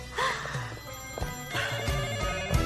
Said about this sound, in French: Ah, c'est mon téléphone?